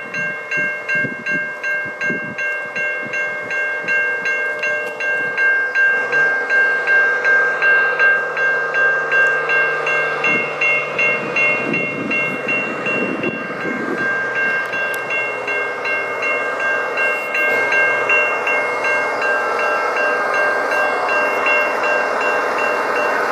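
A train sits at the Pyrenees Highway level crossing west of Elmhurst, Victoria, with a loud, sustained rumble, steady tonal ringing and rapid regular pulsing throughout, heard alone.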